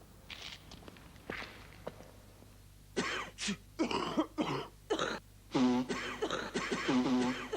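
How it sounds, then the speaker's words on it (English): A series of harsh coughs, several in quick succession, loud and close, after a quieter stretch of faint background noise. "When you got a nasty cough"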